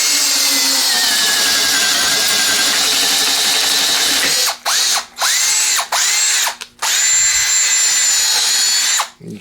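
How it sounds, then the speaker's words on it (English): A Teccpo 12-volt 4-pole brushed-motor cordless drill bores into old wood in low range: a sustained high motor whine, then several short stop-start bursts as the bit catches and releases, close and loud. "Let's see if we can drill this hole in low range."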